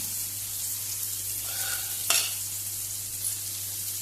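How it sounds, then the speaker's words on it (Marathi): Prawns frying in oil in a pan for a Goan-style prawn fry, a faint steady sizzle with a low hum underneath and one brief sharp clatter midway, heard alone. "अशी सुंगटां तुमी करून मुद्दाम अशी भाजून पळया"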